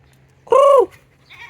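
A single goat bleats once, a loud wavering call lasting under half a second, close by against a faint low hum.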